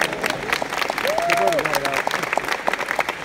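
Audience applause fills a VR developer keynote hall, steady clapping from a large crowd sustained throughout, with a faint voice and tones rising briefly over it.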